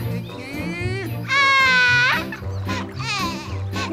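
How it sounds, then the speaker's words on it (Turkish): A bear cub cries in loud, wavering wails that rise and break off in bursts, with voices murmuring around the crying. "Bu ağlama sesi de nereden geliyor?"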